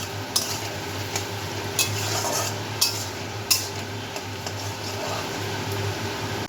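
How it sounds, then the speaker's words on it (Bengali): Sliced onions frying into beresta for mutton biryani hiss steadily in hot oil, with a low hum beneath and sharp periodic taps as a utensil stirs and strikes the pan. "বেরেস্তাগুলোকে ভালো করে ভেজে নেব।"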